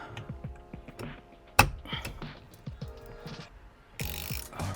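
A ratchet tightens the center bolt on a custom steering yoke, giving short clicking bursts close by with a few sharper metallic knocks.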